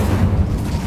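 The Incendio fire spell in Hogwarts Legacy bursts out as a short, loud, low whooshing boom that lasts under a second with nothing else around it.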